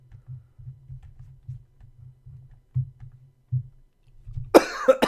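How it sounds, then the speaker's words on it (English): A person with the flu coughs in a string of short, low, rhythmic bursts, each one close and fairly soft, before a louder harsh throat-clearing rasp right at the end. "Dang, man. I can't stop coughing."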